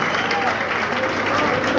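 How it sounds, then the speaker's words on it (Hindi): A crowd at a Hindi kavi sammelan poetry gathering applauds poet Sachin Tiwari with steady, dense clapping that holds at an even level throughout. "एक बार जोरदार तालियां सचिन तिवारी के नाम।"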